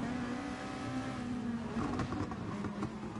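A race car engine in a racing video game drones steadily at high revs, its pitch sagging slightly under braking and then climbing again, loud and continuous with no voices.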